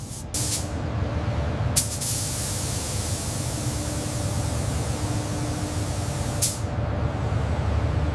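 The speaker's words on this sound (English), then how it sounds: "Applying the protective coat now." Robotic arm in a highly automated Tesla car factory spraying a protective coating onto a car body: a steady, continuous hiss over a low industrial hum, with a few brief sharp bursts of spray noise near the start and end.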